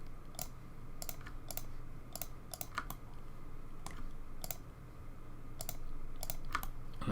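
Computer keyboard keys pressed as shortcuts while UV unwrapping a low poly car model in 3D modelling software, sharp isolated clicks in an irregular rhythm over a steady low room hum, close and moderately loud.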